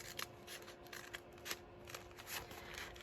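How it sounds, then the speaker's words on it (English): Scissors trimming the edges of a paper journal cover made from vintage ephemera, a series of quiet close snips and paper rustles repeating unevenly against low background hum. "So we'll just do slightly more trimming here"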